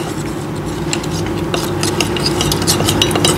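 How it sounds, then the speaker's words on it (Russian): Salad being mixed with a runny honey dressing in a bowl, close, continuous scraping and light clinks of utensils against the dish, with a low hum underneath. "Теперь перемешиваем."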